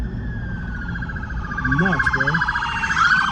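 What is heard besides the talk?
police car sirens at night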